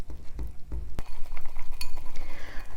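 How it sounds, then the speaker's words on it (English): A whisk knocks and scrapes around a bowl as powdered sugar is worked into bourbon-vanilla icing, with rhythmic clinks and soft thumps up close and no talk. "we're going to add 1 cup of powdered sugar, just a little at a time, so we don't make too much of a mess when we whisk it together"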